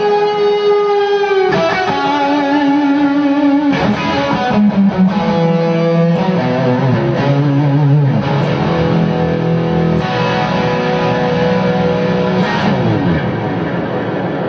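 Electric guitar played through a small rig with gain, reverb and delay, distorted chords and notes ringing out with long echoing tails that keep swimming underneath, loud and continuous throughout.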